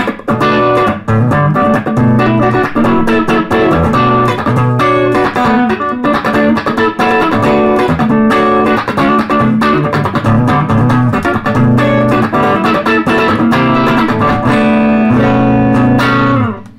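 Choppy electric guitar rhythm strumming with crisp, percussive muted strokes, steady and loud throughout, played alone without any talking.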